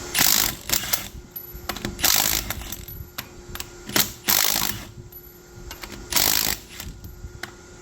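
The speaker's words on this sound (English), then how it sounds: "go ahead and break the lug nuts loose while the tire's still on the ground" A wrench breaking trailer wheel lug nuts loose with the tire still on the ground: repeated ratcheting clicks and metallic clanks in irregular bursts, close and fairly loud.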